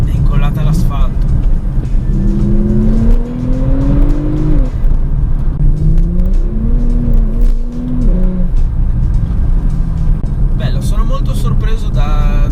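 A Porsche 911 Turbo engine drones steadily on the road, its pitch rising and falling with shifts, while someone talks over it throughout.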